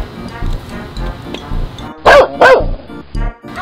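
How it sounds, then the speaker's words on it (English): A dog barks and yips in a lively sequence, with two louder, sharper barks in the middle, heard over a busy background of music-like layered sound. "Oh, it's Spot the dog."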